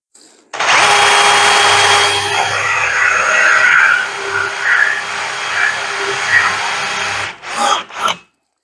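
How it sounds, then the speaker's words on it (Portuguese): Hole saw boring through wood for a homemade sash clamp, a loud continuous power-tool whine and grinding rasp lasting about seven seconds, then a few short bursts as it stops. "Eu já tenho agora um guia aqui para eu poder fazer o furo com a serra copo."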